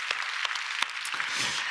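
A church congregation at a Sunday worship service claps briefly, a sparse spatter of close, sharp hand claps that thickens slightly toward the end.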